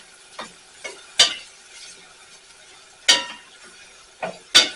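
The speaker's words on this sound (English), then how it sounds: "you want to make sure that you stir this while the garlic is sauteing" Garlic sautéing in a pan while a utensil stirs it, a soft steady sizzle punctuated by several sharp scraping taps of the spoon against the pan, close and unaccompanied by talk.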